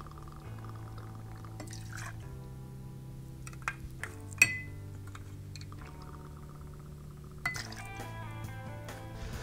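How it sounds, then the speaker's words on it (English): Midori melon liqueur is poured into a glass for a Midori Sour, soft liquid trickling in short bursts with a few light glass clinks and taps, quiet and close. "pour a shot and a half or 45 mils of Midori melon liqueur"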